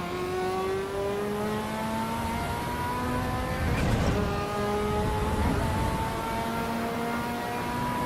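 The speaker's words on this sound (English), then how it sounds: "Oh, the sound of the Ferrari." Ferrari F40 engine in a racing video game, a steady high-pitched whine that climbs and drops through gear changes for about eight seconds, with a brief louder burst midway and no talking.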